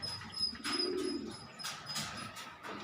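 Pigeons coo softly in a low, rounded burst near the middle, with faint chirps and other bird calls around them over steady background noise.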